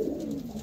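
A domestic pigeon of the Andhra Lalful breed gives a brief, soft low coo, close by and faint against quiet background noise, with no talking.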